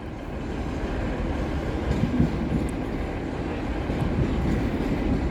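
An East Midlands Railway train runs along the track, heard from inside as a steady low rumble with faint rail clicks, constant and moderately loud.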